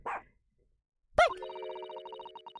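A cartoonish dog bark from a video game courtroom detective scene, a single sharp yelp followed by a steady electronic chiming tone, with nobody talking.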